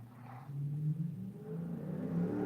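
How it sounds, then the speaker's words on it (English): A car passes through a residential neighborhood at night, a faint distant engine whir that swells and revs gently, then lingers as a low hum. "That was a car"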